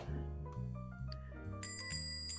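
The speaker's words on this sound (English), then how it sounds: "which will probably be the last time I get to use this bell sound effect" A ringing bell sound effect plays as a quick sequence of bright tonal chimes at changing pitches, clean and fairly quiet, with no talking.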